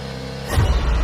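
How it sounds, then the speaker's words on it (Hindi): A car engine starts in a horror story sound effect: low quiet ambience, then a deep rumble kicks in halfway through and carries on to the end. "धीरज गाड़ी स्टार्ट कर देता है"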